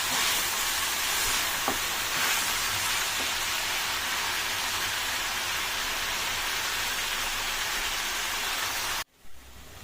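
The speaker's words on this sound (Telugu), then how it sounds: "ఫ్రై చేస్తూ ఉండాలి కలుపుతూ ఉండాలి" Chicken and onions fry in a pan, giving a loud, even hiss like rain that holds for about nine seconds with a couple of faint stirring clicks, then cuts off abruptly to near silence.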